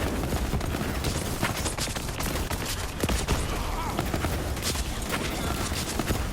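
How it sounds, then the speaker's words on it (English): Rapid pistol gunfire in the video game Borderlands 3, dense crackling shots firing in quick bursts amid game noise, loud and continuous, with a voice faintly present underneath. "Come on, blow him up with this badass pistol."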